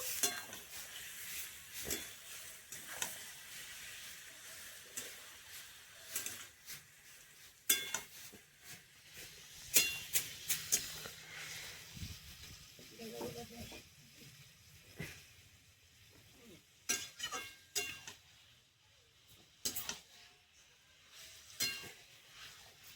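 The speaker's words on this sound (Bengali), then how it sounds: "এবার আমি মাংসটা দিয়ে দেবো পেঁয়াজ আর ক্যাপসিকামের সঙ্গে মাংসটা একটু ভেজে নেবো" Mutton being fried in a pan with onion and capsicum for a goat meat curry with ground spice paste, a soft steady sizzle broken by scattered spatula scrapes and clinks against the pan, with no talk.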